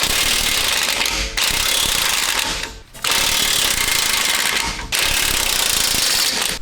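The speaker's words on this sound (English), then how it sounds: "I'm gonna start loosening these U-bolts. They are accessed from the underside here with 13/16." A power tool with a 13/16 socket loosens U-bolts from the underside of a 2015-2022 GMC Canyon/Chevy Colorado pickup, giving loud, continuous mechanical rattling hammer bursts, three long runs separated by brief pauses.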